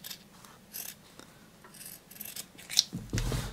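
Scissors snip through fabric while trimming a sewn bow tie, giving several quiet, close cuts, followed by a louder rustle of handled cloth at the end.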